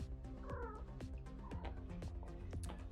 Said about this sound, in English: Apologies, my cat is looking for attention.